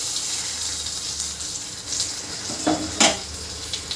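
A tempering of fenugreek, cumin and green chillies sizzles in hot oil for a manathakkali keerai dish, a close hissing crackle that flares briefly near the end as it is stirred.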